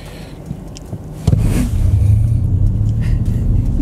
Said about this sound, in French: Bon, on va tester l'accélération, mais il n'y a pas de launch control.